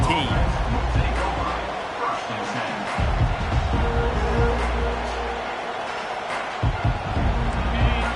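Stadium crowd noise from an NCAA 25 college football video game, Georgia vs Oregon, a steady broad roar with swelling cheers throughout, running under a commentator's voice.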